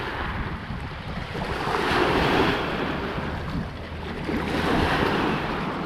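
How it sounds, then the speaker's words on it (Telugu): Waves breaking on Goderich beach in the evening, a loud continuous surf roar that swells and eases in slow surges, with heavy wind buffeting the microphone and no talk. "ఇట్లా అలలు రావడం అట్లా సన్న దిగడం"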